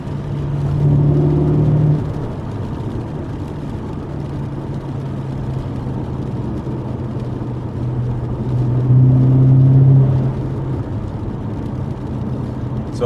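A car engine hums steadily from inside the moving vehicle, with a low rumble that swells briefly twice as it accelerates. There is no talking over it.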